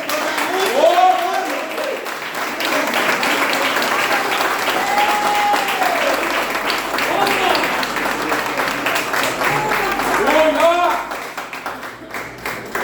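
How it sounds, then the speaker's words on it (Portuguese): Congregation clapping steadily during a church service, sustained dense applause lasting most of the stretch with voices calling and singing over it before tapering near the end. "As palmas é para ele"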